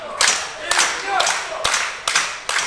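A wrestling crowd claps in unison behind Man Like Dereiss during his match against Nico Angelo, sharp rhythmic bursts of hand claps rising and falling in roughly steady beats, fairly loud and close.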